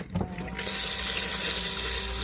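Cold water runs from a tap inside a camper van, starting with a brief knock and then a steady, loud, close rushing stream with no talking.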